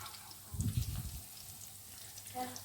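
Raw minced meat (keema) kebabs frying in a pan over medium heat, a soft crackling sizzle with a brief low bump of movement early on, fairly quiet throughout.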